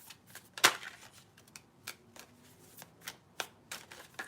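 Playing cards shuffled by hand at close range, a sharp riffle near the start followed by lighter irregular snaps and taps, alone without talk.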